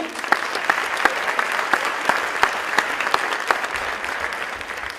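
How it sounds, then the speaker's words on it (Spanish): Audience applause at an event, a steady wash of many hands clapping with a few sharper individual claps standing out, continuous and fairly close for five seconds. "fuerte el aplauso nuevamente"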